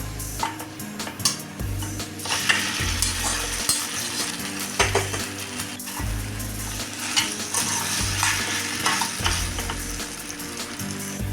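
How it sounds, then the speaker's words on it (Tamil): Boiled Maggi noodles tossed and stirred into sautéed onions in a frying pan, a loud close sizzle with repeated spatula scrapes and metal clinks against the pan, no talking. "இப்போ வெங்காயம் வதங்கிடுச்சு நம்ம அவிச்சு வச்சுருந்த மேகியை நம்ம அப்படியே போட்டுக்கலாம்"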